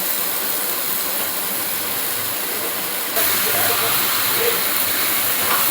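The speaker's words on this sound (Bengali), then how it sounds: "এবার আমি মাংসটা দিয়ে দিলাম, চিকেনটা কড়াইয়ের মধ্যে দিয়ে দিলাম।" Chicken goes into hot spice masala in a kadai, giving a constant broad sizzling hiss that jumps louder partway through and then keeps steady.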